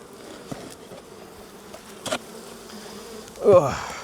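Honey bees buzz at a hive opened for inspection, a steady faint hum throughout that swells louder near the end, with a few soft knocks of handling.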